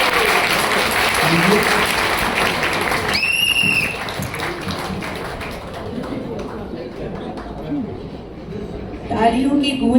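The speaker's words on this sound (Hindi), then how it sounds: "तालियों की गूंज" An audience at a live music and ghazal stage programme claps steadily after a song, the applause spread across the room and moderately loud, with a voice briefly heard over it near the end.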